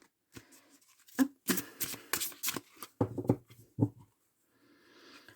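A deck of playing cards is cut and shuffled close up, with a series of soft, quick riffling and slapping bursts separated by short pauses, fairly quiet and without talk.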